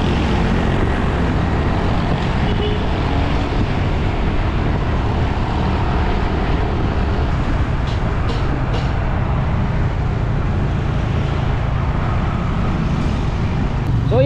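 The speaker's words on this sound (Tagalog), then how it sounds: "medyo matraffic kahit tanghali na" Midday road traffic on Sandawa Road in Davao City, a steady broadband roar of passing vehicles that holds close and constant without a break for the whole stretch.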